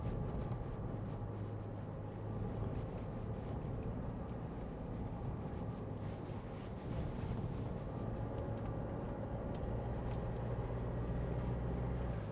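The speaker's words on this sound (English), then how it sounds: "Nice comfortable ride out here over all these bumps." A 2019 Mitsubishi L200 Challenger double-cab pickup with a 2.4 DI-D engine, automatic and 4WD, rolls over bumpy ground, heard from inside the cab as a steady low road-and-engine rumble with constant broadband noise and faint knocks.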